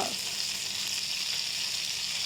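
Steady, loud sizzling of fish frying in hot oil, a continuous crackling hiss with no pauses and no voices.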